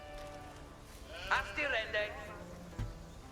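A sheep bleats in a medieval strategy video game, a short wavering cry standing out briefly over a quiet game backdrop while a commentator talks.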